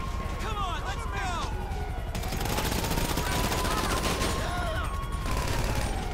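Gunfire in the GTA 5 Online video game, a dense stream of shots mixed with a wailing police siren, steady and loud throughout, with player voices talking over it.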